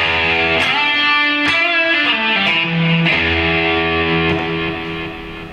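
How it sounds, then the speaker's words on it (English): Electric guitar played through a Blackstar ID series amp with a digital delay effect, clean sustained chords and notes repeating in crisp echoes, loud and continuous with no talk. "And here we have a digital delay."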